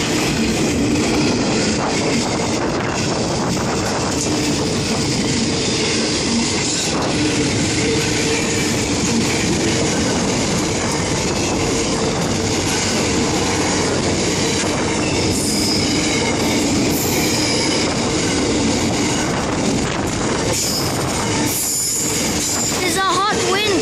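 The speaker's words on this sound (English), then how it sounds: "There's a hot wind coming with this freight train." A freight train hauled by NR class locomotives rolls past at close range, a continuous loud rumble of wagons with squealing wheels and clattering over the rails. It runs without pause from start to finish, with possible faint talk underneath.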